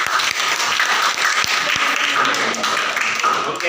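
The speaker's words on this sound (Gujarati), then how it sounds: "તાળી પાડો." Students in a geography class quiz game break into steady, dense hand clapping that fills the whole stretch at an even level, with no talking over it.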